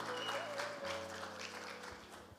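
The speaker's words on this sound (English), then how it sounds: "that deserves a round of applause, please. A generous round of applause." Guests at an Indian wedding ceremony applaud, a soft, moderately dense round of clapping under a sustained droning musical tone.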